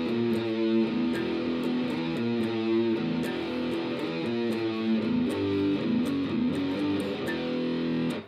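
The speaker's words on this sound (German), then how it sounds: "Das war jetzt ein klassisches E-Gitarrenriff mit Distortion-Sound, also verzerrtem Sound." A classic electric guitar riff played with a distorted tone: a steady, rhythmic repeating pattern of gritty chords and notes, moderately quiet and alone with no voices.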